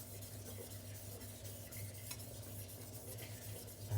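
A cleaver being sharpened on a 2500-grit silicon carbide stone, with soft, repeated rasping strokes of steel across the stone under a faint background hum.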